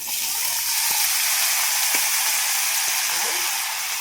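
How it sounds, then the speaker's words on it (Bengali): Zucchini pieces go into hot oil seasoned with panch phoron, giving a loud, continuous close-up sizzle with a few sharp clicks of a utensil against the pan. "তেলের উপরে পাঁচফোড়ন দিয়ে দিয়েছি, এবার আমি দিয়ে দেবো এর মধ্যে এই সবজিটা।"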